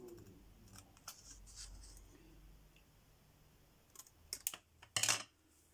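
Scissors trim the overhanging edge of a handmade paper card, quiet at first, then a few sharp close snips clustered near the end, with no talk.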